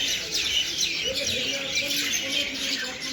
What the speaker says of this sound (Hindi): सबसे पहले ये परिंदों की चहकाने की आवाज़ें,